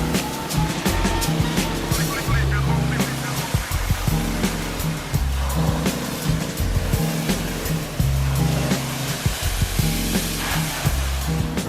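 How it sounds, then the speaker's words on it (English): Pressure washer spraying water onto a Subaru during a detailing job, a steady loud hiss with a pulsing low engine drone underneath and brief surges in the rumble throughout. "actually, it's a JDM pressure washer"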